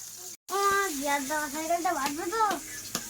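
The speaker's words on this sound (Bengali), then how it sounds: "এই যে আমার এদিকে মাছ ভাজাও হয়ে গেল মাছ ভাজাটা তুলে নেবো এবার" Small pond-caught chuno fish sizzle in a frying pan at home in the Sundarbans, a soft steady crackle running beneath a voice that talks almost the whole time.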